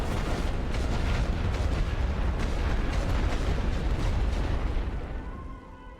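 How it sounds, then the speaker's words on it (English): Artillery fire pounds a trench machine gun position in The Great War: Western Front, a dense, continuous rumble of blasts and bursts that stays loud before easing off near the end. "I'm gonna hit this trench, this machine gun with artillery."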